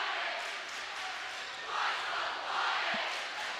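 A student section crowd at a high school boys basketball game, Lakota West Firebirds versus Lakota East Thunderhawks, cheering as a steady, faint, distant roar that swells twice.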